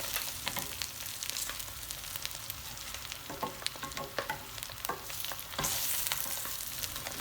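Oil rice with salted beef sizzles in a pot while a spoon stirs it steadily, sharp scraping clicks and knocks scattered over a continuous close frying hiss, with no talking.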